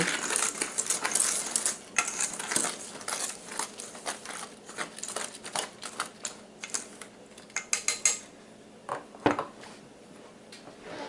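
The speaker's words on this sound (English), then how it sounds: "Mix your walnuts into your dry ingredients too." Walnuts being stirred into dry ingredients for strawberry banana nut bread, with rapid clicking and rattling of nuts and a utensil against a bowl in irregular bursts and a few sharper clacks.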